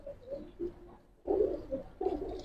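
Giribaz pigeons coo in a loft, soft throaty calls repeating in short bursts close by, growing louder toward the end with several birds overlapping.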